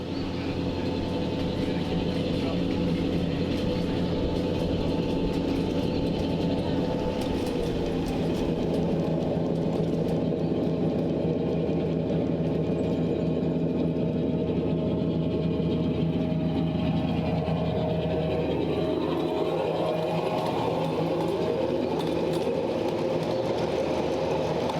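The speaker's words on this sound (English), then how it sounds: "catch a glimpse of Ken Johnston's beautiful Santa Fe F7s making their way through the club" Miniature live steam Santa Fe F7 locomotives roll through a club layout, a steady rumbling drone with faint rail clatter running continuously throughout.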